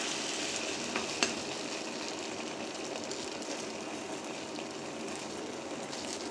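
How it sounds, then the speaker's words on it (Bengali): A flipped egg keeps frying in a pan, giving a steady close sizzle and spatter with one small sharp tap early on and no voices. "ডিম ভাজা অলমোস্ট ডান"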